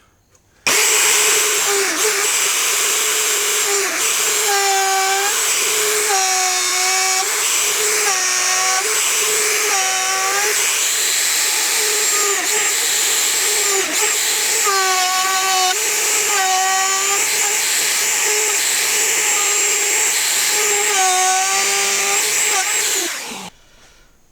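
A router cuts mortises in black walnut for a worktable, its motor whining steadily and loud for over twenty seconds, the pitch wavering and dipping repeatedly as the bit bites into the hardwood.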